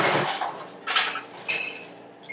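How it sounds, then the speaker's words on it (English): Ice cubes rattle and clink loudly into a glass being filled for a blended cocktail, in several quick bursts close by. "take the glass that you're going to make a drink into, fill it full of ice"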